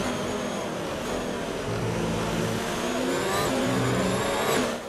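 Haas Formula 1 car engine in the racing game F1 2019, a loud steady high-pitched whine that climbs in pitch toward the end, continuous throughout with no talk.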